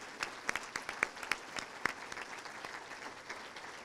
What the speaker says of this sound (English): So how about if we just applaud our Education Foundation for everything that they have done for our schools.